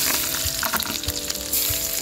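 Cinnamon, cloves and leaves frying in hot sesame oil, a dense, steady close-up sizzle with crackling pops throughout.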